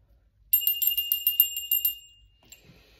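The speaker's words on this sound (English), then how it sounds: "We ring the bell to clear energy as well as call it forth" A small bell rung as a ritual to clear energy, giving about nine to ten quick bright tinkling strikes with a sustained ring, alone and close, then a single faint ting after a short pause.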